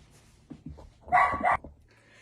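A guard dog barks at someone at the kitchen door, a few short yips building to a louder sustained bark, heard fairly close and alone.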